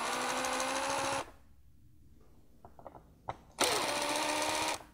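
A cordless driver loosens T25 Torx screws on a VW 1.8T air box, giving two loud whirring bursts with a short pause of faint clicks and handling noise between them.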